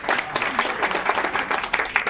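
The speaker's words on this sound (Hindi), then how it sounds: "जोरदार ताली" Loud audience applause at a theatre-in-education teacher training event in Gwalior, dense clapping with uneven bursts, sustained across the whole stretch.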